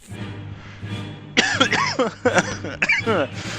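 A man coughs in a short burst of several harsh, close coughs after laughing hard while playing a space-themed detective game, with some throat-clearing, following a stretch of quieter background sound.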